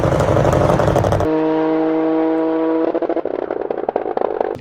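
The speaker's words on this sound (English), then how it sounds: "The 3-cylinder just has such a unique sound" A tuned Toyota GR Corolla three-cylinder with anti-lag and launch control roars loudly up close, drops to a steady humming drone, then breaks into sharp crackling pops and bursts.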